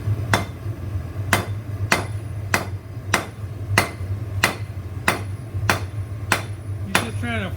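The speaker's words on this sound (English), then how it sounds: "You're just trying to flatten it out right now, working the steel just a little bit." Hot steel from a propane forge is hammered flat on an anvil, the blows landing in a steady rhythm of about eleven sharp metallic strikes over a low roaring burner hum, with a faint ringing at the end.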